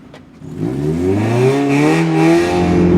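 A Mazda MX-5 Miata engine revs up in one rising, strong pull, loud and close, its pitch climbing steadily over a few seconds.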